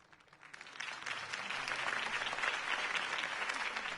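A crowd applauds after Harvey Dent's campaign speech, starting soft and quickly swelling into steady, dense clapping that holds at full strength to the end.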